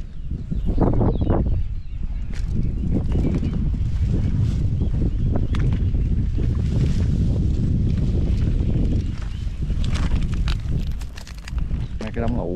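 Strong wind buffets the microphone at a riverside fishing spot during a light drizzle, a loud continuous low rumble with gusts throughout, while someone talks over it.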